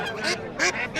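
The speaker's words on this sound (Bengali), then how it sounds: "আজকে অনেকগুলা আসলে হাঁস আছে, বেশিরভাগই হচ্ছে রাজহাঁস" Geese and ducks at a large rural poultry market in Bangladesh give repeated nasal honks and quacks, about three close bursts in a second with market noise underneath.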